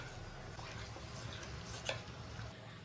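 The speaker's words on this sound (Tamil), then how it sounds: "நல்லா இப்படி கலந்துக்கினே இருந்தீங்கன்னா திக்கு கொடுக்கும்." A kunafa mixture stirred in a pan: a soft, continuous scraping and swishing with faint sizzling and a single small clink, quiet and close with no talk.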